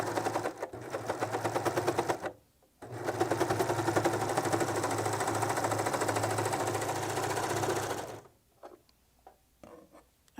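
A serger machine finishes the seam of a Balenciaga-style blouse, running in a steady fast stitching whir for a couple of seconds, then pausing briefly before a longer run of about five seconds, close and loud, followed by quiet handling.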